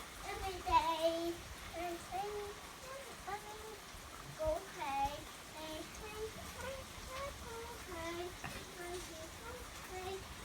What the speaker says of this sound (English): Well, it's not going away, so get out of the rain.